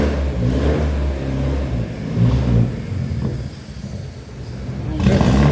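A 1971 Ford Corcel engine revs up close, a deep throaty roar surging and easing in repeated throttle blips, loud and alone.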